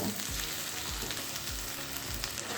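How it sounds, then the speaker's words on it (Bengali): A ground paste of ginger, garlic, onion and green chilli frying in a pan, a dense continuous sizzle with a few low scraping stirs, close and even throughout. "এখন পেঁয়াজের সঙ্গে সব কিছু আবারও খুব ভালো করে কষিয়ে নেব"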